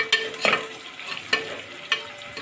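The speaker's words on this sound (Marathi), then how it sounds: "जे बारीक कापलेले आपले कांदे त्यात टाकणार. त्यानंतर त्याला चांगलं मिक्स करणार." Finely chopped onions frying in a pan for masala khichdi, a soft sizzle broken by several sharp spoon scrapes and stirs at irregular intervals, close and without talk.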